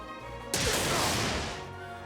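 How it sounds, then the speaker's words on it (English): A single gunshot from a video game: one sudden loud blast that rings and fades slowly over a second and a half against a steady tonal background, with no talking. "That sounded like a gunshot."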